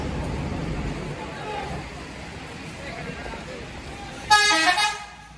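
A basuri-style musical horn on an Indonesian bus blares loud and close near the end, a bright tonal honk standing out over steady road noise and crowd murmur.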